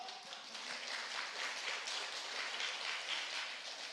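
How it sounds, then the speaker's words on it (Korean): A church congregation clapping together in a worship service, a dense steady wash of many hands that holds evenly from start to finish at moderate level. "박수를 칠지어다"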